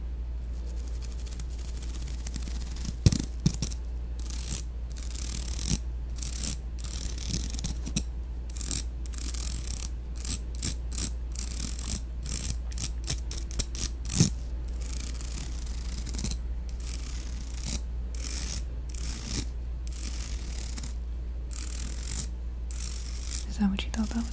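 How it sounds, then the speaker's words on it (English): A chopstick run over an object gives dry, close ratcheting clicks and scratchy ticks in irregular bursts over a steady low hum, with no voices. "what kind of sound it's going to make when I run this chopstick over it"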